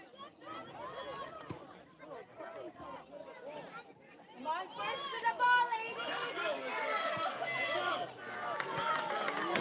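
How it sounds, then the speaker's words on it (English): Spectators at a girls' varsity high school soccer game, Cienega Bobcats against Buena Colts, in overtime, chatter and shout, the crowd noise swelling louder toward the end with voices mixed throughout. "You can hear the crowd getting louder and louder."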